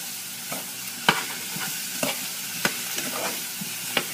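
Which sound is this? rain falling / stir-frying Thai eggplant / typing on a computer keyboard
stir-frying Thai eggplant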